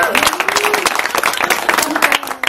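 Rhythmic clapping from a wedding crowd, steady and fairly loud, mixed with a singing voice and festive chatter throughout.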